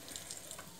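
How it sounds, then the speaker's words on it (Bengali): Mustard seeds sizzle in hot oil on a tawa, a brief, faint, close crackle with a few small pops. "সর্ষে দিয়ে দিলাম"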